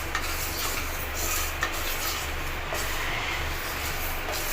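Moong dal is dry-roasted and stirred in a pan over a medium flame, giving a continuous close, gritty scraping and rustling with faint rhythmic strokes and a low hum underneath.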